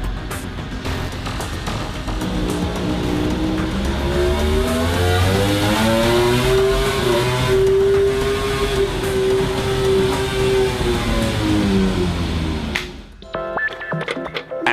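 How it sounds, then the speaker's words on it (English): Suzuki MotoGP racing engine running on a laboratory durability test rig, a loud sustained mechanical roar whose pitch rises and falls steadily for about twelve seconds, then cuts out abruptly near the end. "At the laboratory, they are testing the durability of the engine."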